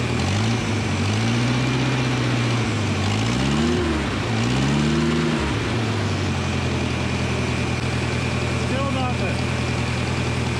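Engine of a TCI H4M40 4x4 forklift idling nearby, a steady loud hum whose pitch dips and rises briefly before settling, with someone talking over it.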